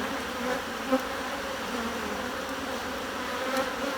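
Steady close buzzing of many honeybees around an open hive during an inspection, a continuous even hum with a few louder passes of individual bees.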